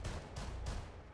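Heavy in-game gunfire in Rainbow Six Siege, a dense rolling barrage of shots with a few sharper bursts, loud and continuous across the moment.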